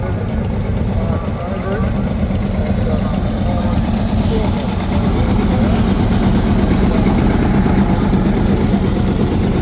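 A loud, steady single-cylinder two-stroke diesel tractor engine chugs and rumbles close by at a vintage machinery rally, with an even rhythmic thump, and a voice speaks over it briefly.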